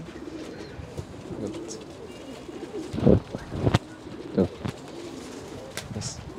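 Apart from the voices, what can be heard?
pigeons cooing while being handled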